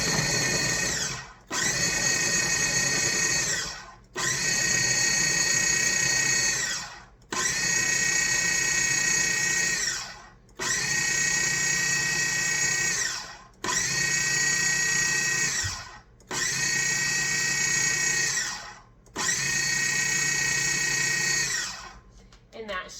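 Food processor pulsing chunks of baking dry mix into coarse crumbs, loud whirring motor bursts of two to three seconds each, eight in a row with brief silent gaps between.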